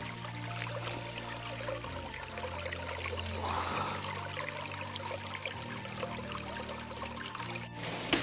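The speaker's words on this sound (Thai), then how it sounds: "สุดยอดนะครับนี่คือน้ำตกนะครับ น้ำตก" A waterfall and clear stream in the humid forest of Doi Bo, Chiang Rai, pour and rush in a constant, close, full wash of water with no voices over it.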